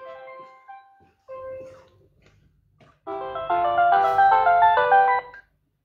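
A phone's ringtone plays a bright, loud chiming melody that repeats for a couple of seconds and then cuts off abruptly, after a few fainter tonal notes at the start.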